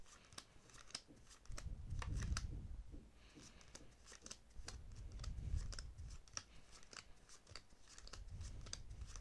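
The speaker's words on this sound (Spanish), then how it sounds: "uno de los espectadores tendría que coger la baraja y hacer dos montones de cartas alternativas" Playing cards from a deck being dealt into two alternating piles for a magic trick, giving soft repeated snaps and slides in a quiet room, close and faint, with no talking.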